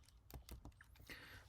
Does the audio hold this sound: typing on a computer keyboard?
yes